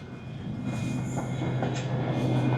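A high-speed passenger train on the London to Glasgow route rumbles steadily from inside the carriage, with a low droning hum, faint wheel clatter and occasional squeals building slightly louder toward the end.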